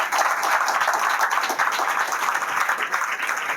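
Church congregation clapping together during a Hindi sermon, a dense, steady wash of applause from many hands that holds loud and even for the whole stretch, with no talking over it.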